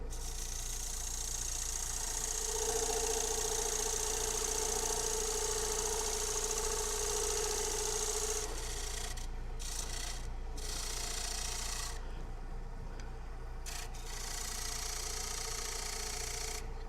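A wood lathe spins a workpiece during a live turning demonstration while a tool cuts a dovetail tenon, a steady close rasping hiss over a low motor hum, with brief pauses in the cutting near the end.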